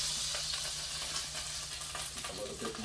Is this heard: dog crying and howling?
no